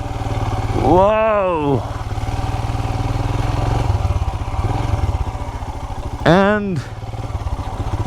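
A Royal Enfield Himalayan carries a pillion rider off-road in second gear, its steady thumping engine loud and close, with two brief throttle surges rising and falling and a voice speaking briefly over it.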